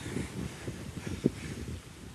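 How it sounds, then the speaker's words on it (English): Steady wind buffets the microphone while biking across Iowa, with a low rumbling roar and a few gusty thumps, loud and close throughout. "So windy today"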